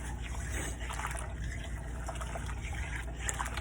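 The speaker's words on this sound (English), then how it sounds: "So I'm going to go ahead and give it another stir." Rice being stirred in a pan of water just short of boiling, giving faint, soft watery swishing and trickling sounds close by, with no talk.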